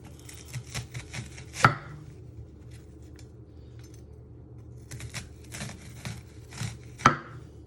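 A knife slices through a vegetable into rings on a cutting board, giving quiet rhythmic taps in two bursts, each ending in a sharper, louder chop against the board.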